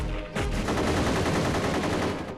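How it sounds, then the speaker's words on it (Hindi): Rapid automatic gunfire from a film shootout erupts suddenly and runs as a loud, dense burst of shots with no talk over it. "अपने फौजी भाइयों पर गोलियां क्यों चला रहे हो?"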